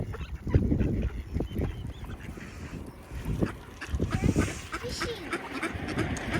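Ducks calling close by at a waterside spot, a few irregular quacks and honk-like calls over outdoor background noise, with a person talking briefly.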